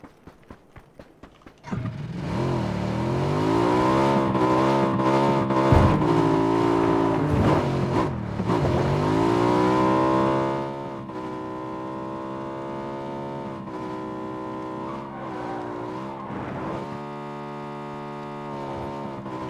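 A motorcycle in PUBG starts up after a few footsteps, then its engine drones loud and close, pitch sweeping up and down through revs before settling into a steadier, quieter cruise, no talking.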